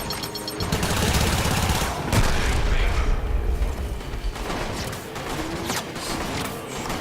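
Sustained gunfire rattles through a session of the video game Warframe, dense and fairly loud across the whole stretch, with bursts overlapping and mechanical clatter mixed in under a voice talking.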